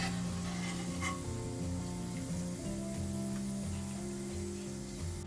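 Garlic fries in hot oil for ghee rice with cashew and carrot, giving a steady, soft sizzle and crackle throughout with low tonal background sound underneath.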